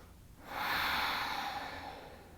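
One long, airy breath, close and fairly quiet, taken during a floor bow yoga session. It swells in and then slowly eases off over about two seconds, with no talking.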